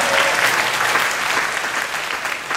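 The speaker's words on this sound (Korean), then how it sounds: "박수 한번 주세요, 여러분." An audience at a Q&A for the musical Rent breaks into loud, close applause, a dense burst of clapping that eases slightly toward the end.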